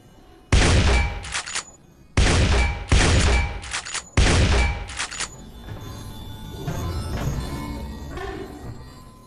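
Three loud, sharp bursts of revolver gunfire in quick succession, each a cluster of rapid shots, followed by a quieter stretch of low rumbling background noise.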